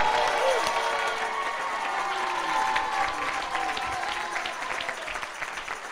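Church congregation applauding loudly during an African church service, a dense sustained wash of clapping and cheering that slowly tapers, with a voice faintly over it.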